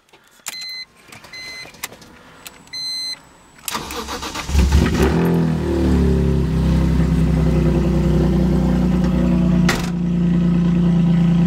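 Some clicks and whirs, then a BMW M3 GTR engine cranks and catches, settling into a loud, steady, rumbling idle that blips once near the end.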